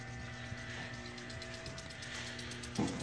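A faint, steady mechanical whir of a small rotisserie motor turning chickens on a smoker, with soft periodic ticks and a low hum, quiet and continuous.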